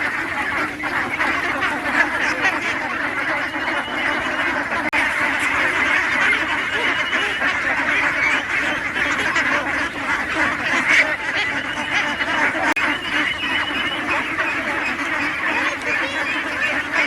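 A large flock of about 800 ducks quacks continuously on a village duck farm in Purba Narayanpur, Phulbari, Dinajpur, forming a loud, dense chorus that carries steadily throughout with no voices.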